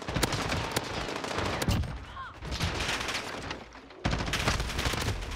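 Submachine gun fire in Modern Warfare: several loud automatic bursts, with a brief lull in the middle before rapid shooting resumes close by.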